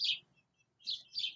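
Birds in a yard under a big elm tree chirp in short, bright bursts, a few quick tweets close by with brief pauses, no talking.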